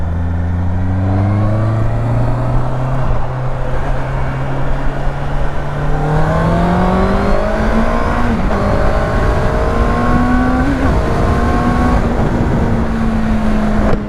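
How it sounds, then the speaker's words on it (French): Four-cylinder engine of a Honda CBR 650R motorcycle revving steadily, a loud continuous drone whose pitch climbs in stages as the revs rise and then holds high, close by with no talk. "pour sentir le gros ronron du 4 cylindres"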